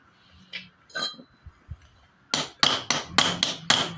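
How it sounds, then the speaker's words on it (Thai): Metal hammer blows ring out against a stuck part on an old Suzuki motorcycle about 20 years old: a few light taps and clinks first, then six hard, evenly spaced strikes close up. "ตอกแล้วยังไม่ออกนะเพื่อน"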